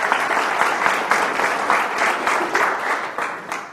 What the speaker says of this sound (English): Give him a round of applause by way of encouragement.